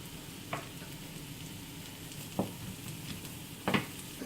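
Onions sautéing with a little salt in a pan, a soft, low sizzle with three distinct stirring scrapes spaced a second or more apart, fairly faint and without any talking.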